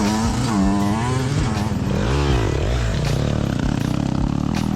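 A race car engine in the TORCS racing game, revving with rising and falling whines that bog down as it stalls, a loud steady rasp throughout with no talk.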